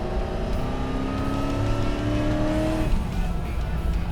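A sports car engine revs and accelerates close by, a steady rising drone with a sharp shift in pitch near the end, no talking.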